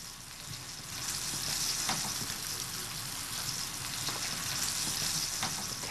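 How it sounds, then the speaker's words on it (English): Dense, bright crackle of chicken frying in hot oil, close up and continuous, swelling a little after the first second, with no talking. "Now your chicken goes right into the oil, sizzling up."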